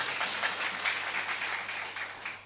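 An audience at a conference claps in a dense, steady burst of applause, fairly quiet and unbroken for a couple of seconds.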